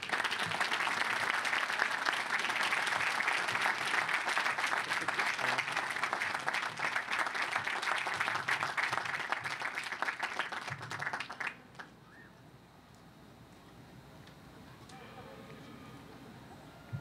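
A commencement audience gives dense, sustained applause for a keynote speaker for about eleven seconds, then it cuts off into quiet room tone.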